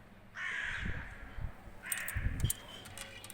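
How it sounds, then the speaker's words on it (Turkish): Crows caw outside a balcony in two distinct harsh calls, fairly close, with faint ambient noise between them. "Kargalar var."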